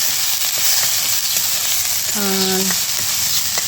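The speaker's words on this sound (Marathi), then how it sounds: "इकडे कांदा टाकलेला आहे. कांदा घेते मस्त असा" Onion frying in oil in a pan over a wood-fired stove, a constant hiss of sizzling with faint stirring clicks and a brief tonal squeak partway through, close by.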